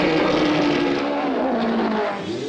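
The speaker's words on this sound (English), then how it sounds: "Coherent speech was impossible over engine noise." A Formula 1 race car engine roars loud and close in the pit lane, a sustained high-revving scream that dips slightly in pitch before easing off at the end.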